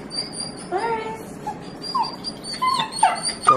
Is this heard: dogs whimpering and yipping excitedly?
yes